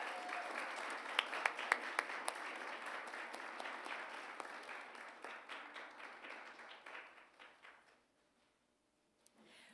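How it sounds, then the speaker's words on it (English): Applause at a school prefects' afternoon tea, a crowd clapping steadily for several seconds before it thins out and stops, followed by a brief silence. "and let's give her another round of applause"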